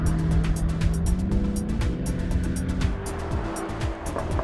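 Jaguar F-Type SVR driving on the road, its engine a steady loud rumble with shifting pitch and a rapid ticking overlay, close and continuous without talk.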